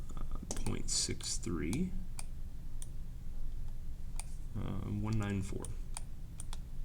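Fingers tapping values into a calculator, quick scattered clicks and ticks heard close by around someone speaking numbers aloud.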